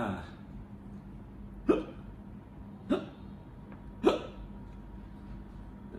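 A voice imitating hiccups in a children's story, three sharp, separate hiccup sounds spaced about a second apart, close and clear, with a brief spoken word.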